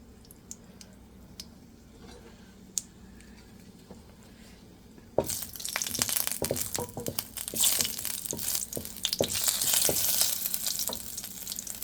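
Dried red chillies frying in hot oil, a loud dense sizzle that bursts in suddenly partway through after a quiet stretch of faint clinks, then crackles steadily up close with stirring scrapes.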